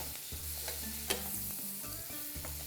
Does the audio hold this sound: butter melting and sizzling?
yes